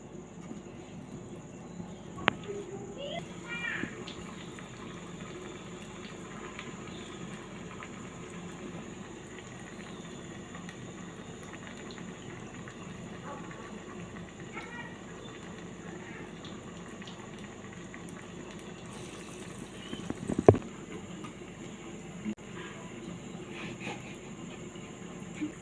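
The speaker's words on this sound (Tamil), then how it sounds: "எண்ணெய் சூடாயிடுச்சு. இப்போ நம்ம ஒவ்வொரு வடையாக தட்டி போடலாம்." Banana flower vadas deep frying in hot oil, a steady low bubbling sizzle that runs throughout, with occasional clinks and a louder splash near the end.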